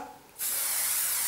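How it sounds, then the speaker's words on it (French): After a brief quiet moment, a Sleek Mystic hair spray bursts into a loud, continuous close-up hiss as it is sprayed onto the lengths of hair. "C'est un spray que j'applique uniquement sur les longueurs,"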